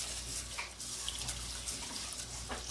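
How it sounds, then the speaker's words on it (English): Cold tap water runs steadily over rice being rinsed in a bowl, a continuous close splashing wash with faint dripping, no voices. "We're going to go ahead and wash the rice. Cold water."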